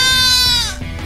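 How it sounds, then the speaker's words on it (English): A baby goat gives one loud, close, wavering bleat lasting under a second, followed by a brief quiet tail. "a baby goat."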